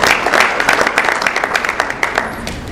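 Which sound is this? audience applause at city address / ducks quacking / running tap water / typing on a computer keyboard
audience applause at city address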